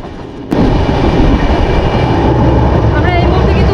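The 19414 Koaa-Adi Express, heard from inside a sleeper class coach as it pulls out of Bardhaman station, gives a loud, steady rumble and rattle that swells suddenly after a brief quieter moment, with possible voices mixed in.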